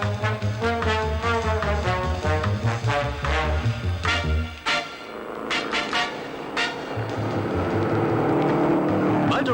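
Race cars at a 1967 Australian motor race roar past loudly, engines revving and shifting through gears, one car sweeping by and fading before another engine climbs in pitch nearby.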